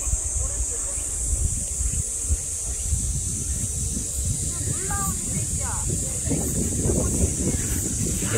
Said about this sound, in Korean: 그래도 이제 좀 바람 좀 부네